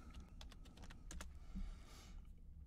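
Typing on a computer keyboard in an AutoCAD session: a short burst of quiet, close key clicks in an irregular rhythm, with no talk over it.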